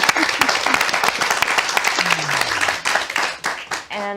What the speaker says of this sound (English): A big thanks to our 3 candidates that are here, Gina Viola, Kevin De Leon, and Karen Bass. Round of applause.